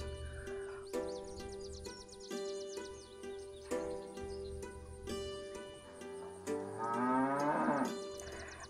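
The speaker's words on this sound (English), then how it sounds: "I heard impatient mooing from the shed" Cows mooing in a farm shed in the video game Milkmaid of the Milky Way, several drawn-out bellowing calls with clear tonal harmonics, the last one rising loud and sweeping, heard alone without voices.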